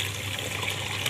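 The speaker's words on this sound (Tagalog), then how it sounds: "Bubuksan natin yung return valve. Para yung tubig lumabas dito." Water drains steadily from an opened return valve on a fan coil unit (FCU) coil, a soft continuous trickle and gush at low volume with no speech.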